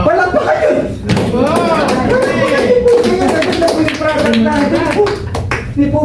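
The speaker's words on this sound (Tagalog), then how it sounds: "Palakpak kayo!" An audience at a presentation in a Denny's restaurant in Hayward claps in a steady patter of hand claps, mixed with loud overlapping talk and cheering voices throughout.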